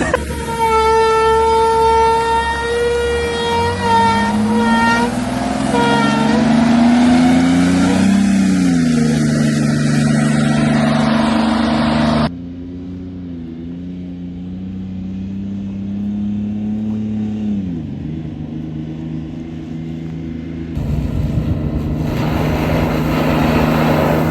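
A SWAT truck drives and accelerates, its loud engine note climbing through gears in a long close roar before dropping and rising again.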